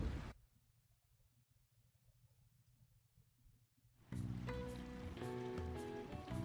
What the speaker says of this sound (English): It's raining today.